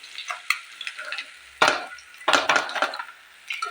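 Fish pieces frying in hot oil over a medium flame in a kerahi, a crackling sizzle with bursts of louder spattering and stirring scrapes, close and without talk.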